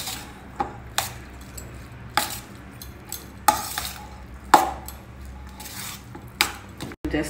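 Food being mixed by hand with a tamarind mix in a South Indian kitchen, giving soft, irregular taps and clinks against a plate or bowl, close and fairly quiet, with no talk.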